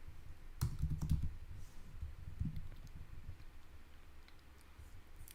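Keyboard typing in short clustered bursts of clicks, close and quiet, with pauses between and no voice.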